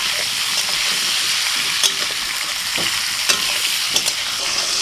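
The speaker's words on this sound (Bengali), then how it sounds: "তেলটা গরম হয়ে গেছে, এখন আলুগুলো ভেজে নেব" Potatoes seasoned with salt and turmeric fry in hot oil for a chicken curry, giving a steady, loud sizzle throughout with a few sharp crackles and spatters, and no voices.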